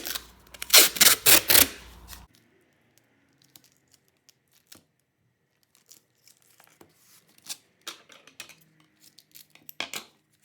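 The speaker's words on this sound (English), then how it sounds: "Now I'm going to put this masking tape around my corners" Masking tape pulled and torn off the roll in several quick ripping strips, then sparse soft taps and crinkles as it is pressed around the corners of a canvas.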